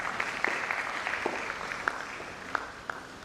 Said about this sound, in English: I think they want to clap for yourself.